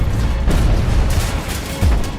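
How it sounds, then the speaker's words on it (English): Depth charges explode around a submarine, producing deep, rumbling booms and muffled blasts that roll over a continuous loud low roar, with heavier impacts near the start and the end. "The sub is rocked as explosions detonate."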